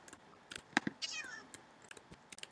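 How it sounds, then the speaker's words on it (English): A single cat meow in Minecraft, drawn-out and mid-loud, amid scattered clicks and taps from game sounds. "Sound like a cat."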